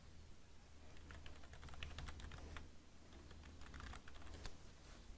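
Typing a search query into an image search on a computer keyboard, with a steady stream of quick, light key clicks over a low background hum and no talking.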